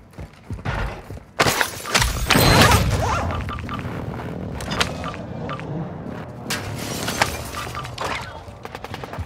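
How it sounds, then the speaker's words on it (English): Heavy explosions and debris crashes from an airstrike in the video game DMZ, with a loud rumbling blast early on followed by scattered mechanical clatter and smaller impacts. "Airstrike, find cover."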